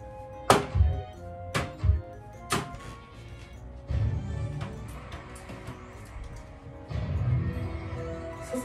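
Three darts strike an electronic dartboard machine in quick succession with sharp, close thunks, each one followed by the machine's beeping and jingling electronic game sounds at a modest volume.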